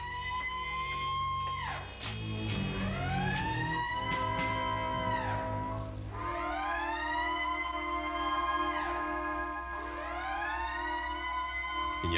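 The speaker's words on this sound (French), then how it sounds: "Le signal d'alarme." A reactor alarm signal aboard a submarine blares in repeated wailing sweeps. Each tone rises and falls in a loud, continuous siren-like cycle with no voices.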